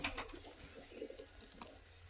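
A pigeon coos softly a few times at a distance, with faint rustling and chirps in the background.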